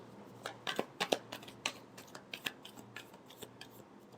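Tarot cards being shuffled by hand, a quick run of crisp papery riffs and snaps arriving in uneven bursts, close and fairly quiet with no talking.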